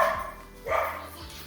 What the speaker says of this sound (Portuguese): Meu cachorrinho tá latindo.